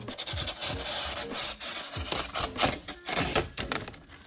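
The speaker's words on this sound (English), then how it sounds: "we're just going to peel this off" Close, scratchy rasping and crinkling as protective plastic film is pulled off a plastic box protector in short uneven strokes, crackly and dense throughout.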